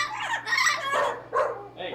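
Pet parrots squawk loudly indoors in a series of harsh, ragged calls, several bursts close together over a couple of seconds, with faint background noise.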